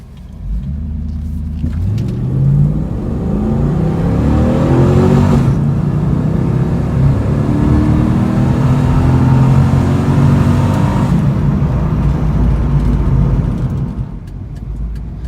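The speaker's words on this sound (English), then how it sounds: "I'm going to do acceleration pull 0 to 70 real quick" A 1998 Pontiac Trans Am WS6 LS1 V8 with Flowmaster exhaust and automatic transmission revs up and roars through a hard acceleration, pitch climbing across several gear changes, loud and close before easing off near the end.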